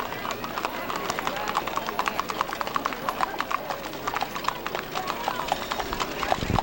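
Horses clip-clop past in the Mule Day parade in Columbia, Tennessee, in 1995: many rapid, overlapping hoofbeats on pavement, close and continuous, with voices talking nearby.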